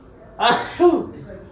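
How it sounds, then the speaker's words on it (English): A person sneezes twice in a casual indoor setting, two sharp close bursts about half a second apart, the second shorter, with faint background hum. "Why are you sneezing so much?"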